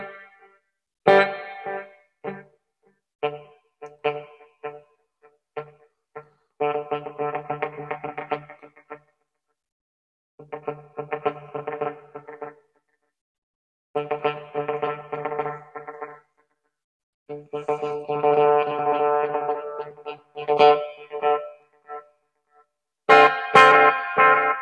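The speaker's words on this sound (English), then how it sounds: "See if we can do something with the echo here." An electric guitar played through a Donner Yellow Fall delay pedal: plucked notes and strummed chords ring out in bursts, each trailed by repeating echoes that stack up, with some phrases running long and swelling louder near the end.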